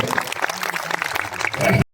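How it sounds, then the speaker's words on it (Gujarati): A crowd at a stage event claps to welcome a performer: dense, continuous clapping from many hands that swells slightly and then stops abruptly. "આપણે એમને જોરદાર તાળીઓથી વધાવીશું."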